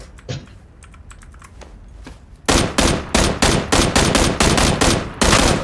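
Gunfire in the video game PUBG (Battlegrounds), a loud rapid string of close shots after a couple of seconds of quieter clicks and rustles, firing in quick bursts to the end.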